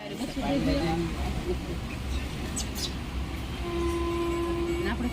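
A rumbling train rolls along under people talking close by, with a long horn-like tone sounding near the end.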